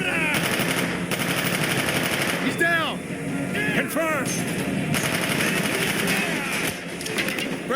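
Rapid automatic gunfire rattles almost nonstop in a Call of Duty: Black Ops campaign firefight, loud and close, with brief whooshing passes, explosive bursts and shouted soldier voices mixed in.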